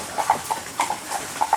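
Hooves of a horse pulling a carriage through Colonial Williamsburg, Virginia clip-clop in a steady, moderately close rhythm of about ten strikes, with no talking over them.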